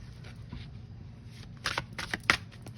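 A deck of mudra cards being shuffled close by, soft riffling at first, then a few quick louder flutters and snaps of the cards toward the end.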